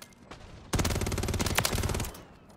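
Rapid automatic fire from the WSP Swarm gun in Modern Warfare 3 comes as one loud, fast burst of roughly a second and a half, with quieter game sounds before and after.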